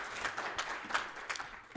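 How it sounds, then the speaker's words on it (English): Symposium audience applauds after a speaker finishes, a soft, fairly distant patter of many hands clapping, faint but continuous. "Please give him a big round of applause."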